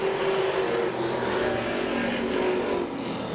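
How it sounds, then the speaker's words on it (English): Race cars at Claremont Motorsports Park on a green-flag restart, a steady loud roar of several engines accelerating together with a sustained droning tone, continuous throughout without talk. "We've got the green flag in the air and we're racing."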